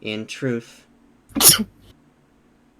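A single sharp sneeze from one person during an interrogation in a post-apocalyptic role-playing game. It bursts out close and fairly loud, just after a man's short spoken line.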